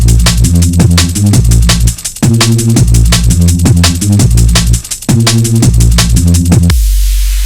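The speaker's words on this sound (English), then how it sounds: "This is the sound of drum and bass." Loud drum and bass music with fast, dense breakbeat drums and a heavy bassline, briefly dropping out twice before ending in a low hum.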